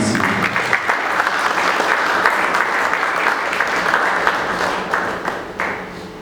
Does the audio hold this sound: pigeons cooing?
no